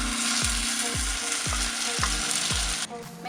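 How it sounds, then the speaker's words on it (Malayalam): Ground masala paste sautéing in hot oil for a green chilli sardine curry, with a steady close sizzle broken by about six regular scraping strokes of a spoon stirring the pan. "ഇനി ഇത് നമുക്ക് നന്നായിട്ട് എണ്ണ തെളിയുന്നിടം വരെ ഒന്ന് വഴറ്റിയെടുക്കണം"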